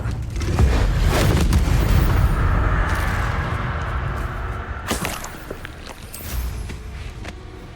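A Confringo fire blast spell in Hogwarts Legacy erupts with a deep, booming explosion and roaring rumble that slowly fades, then sharp cracking impacts strike again, loud and near, heard without speech.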